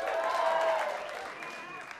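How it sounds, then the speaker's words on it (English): Audience applause rises in a comedy club after a stand-up line, a scattered patter of hands that fades gradually under a voice speaking on top. "Don't clap, it's court ordered"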